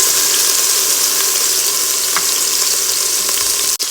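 Green onions and leftover turkey hit a hot soup pot and sizzle loudly, a dense continuous frying hiss with faint crackles throughout and a brief dropout just before the end.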